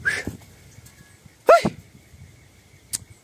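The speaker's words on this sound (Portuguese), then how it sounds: "Espirrou na cara do cachorro" An animal sneezes close beside a dog, several short, sharp sneezes spaced about a second and a half apart against a quiet background.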